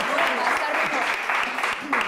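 Audience applause in a studio talk show, a continuous wash of clapping over its short length, with talk mixed in beneath it.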